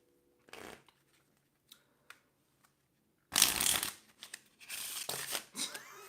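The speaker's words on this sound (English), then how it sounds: "It should look like I'm just dealing cards, but I'm not." Playing cards dealt and shuffled during card trick practice: a few faint isolated flicks, then a loud burst of riffling and snapping cards followed by more quick card-handling sounds, close up with no talk.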